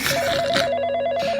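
A telephone rings with a bright, warbling electronic tone, sustained and fairly loud, heard on its own without speech.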